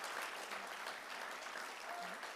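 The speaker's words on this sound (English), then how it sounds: "We can clap for that." A crowd at a high school swim and dive team banquet claps steadily, a dense, even patter of applause heard from a moderate distance with no talking over it.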